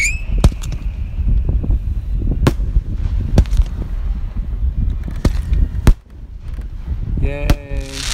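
A small high school fireworks display, with sharp firework bangs and cracks scattered irregularly over several seconds, some crackling bursts, and a crowd talking and cheering throughout.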